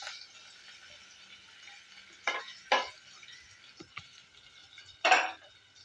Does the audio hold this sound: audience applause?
no